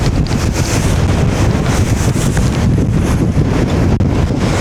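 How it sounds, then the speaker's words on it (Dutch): Strong wind on a boat off Volendam roars and buffets against the microphone in a constant, loud rushing blast with gusty fluctuations, no other sounds clearly audible. "Oeps, de wind staat een beetje op."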